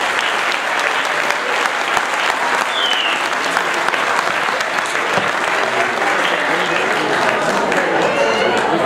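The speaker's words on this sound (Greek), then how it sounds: "Ένα δυνατό χειροκρότημα." Audience applauding at a Greek association's pita-cutting and awards event in Kozani, a continuous roomful of clapping held at an even level, with a few voices and cheers scattered underneath.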